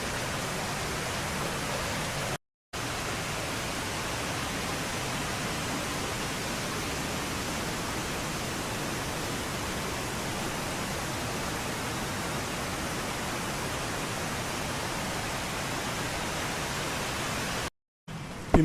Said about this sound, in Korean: 이곳은 개울은 아니고 탐방로이지만 빗물로 인하여 얕은 개울이 되었습니다